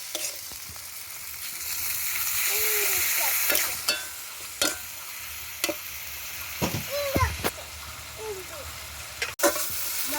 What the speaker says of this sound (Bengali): শুকনো লঙ্কা বাটাটা দিয়ে দিলাম, দিয়ে ভালো করে ভেজে নেব।